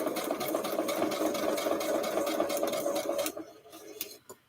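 A sewing machine stitches fabric pieces with a fast, steady mechanical whir for several seconds, then stops abruptly, leaving a few faint clicks and handling sounds.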